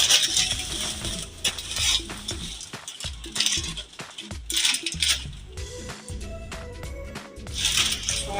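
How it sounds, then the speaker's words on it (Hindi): A blender grinds dry vermicelli (sawaiyan), making loud, close, rattling and crunching bursts with clattering pieces and brief pauses between pulses. "ब्लेंड ऑन करेंगे।"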